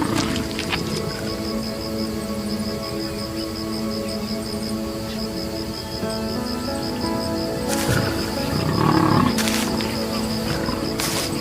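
Lions roaring and growling in a fight with a buffalo on the African savannah, a loud rough wildlife din with sharp bursts and calls toward the end.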